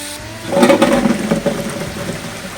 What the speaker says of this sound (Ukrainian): Виливаємо воду, промиємо фасольку.